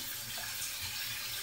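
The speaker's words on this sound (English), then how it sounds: "And this is how you wash your salad, with salt and water." Salad gets washed under running water with salt, a steady tap stream hissing into a sink at close range with no voices, ending in a brief splash.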